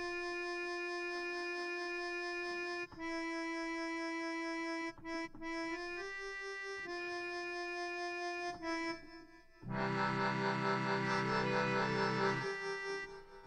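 Organ tones from the Organ Harmonus iOS app with reverb, sustained chords and held notes changing every few seconds, quiet overall, swelling into a fuller, brighter chord near the end, with no talking.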